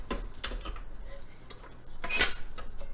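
Metal griddle and grill plates are slotted into a Pampered Chef Deluxe Grill, giving a string of close, sharp metallic clicks and clanks, with a louder rattling clatter near the end.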